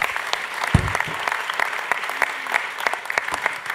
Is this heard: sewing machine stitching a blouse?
no